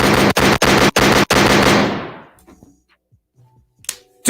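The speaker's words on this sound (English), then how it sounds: "Let me put the gunshots for that." Several loud gunshots fire in rapid succession, then the sound fades into an echoing tail and near silence with faint clatter.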